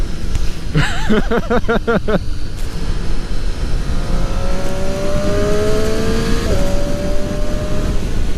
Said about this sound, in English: the noise that a quick shifter makes, I don't know what it is about it, but it just sounds so good.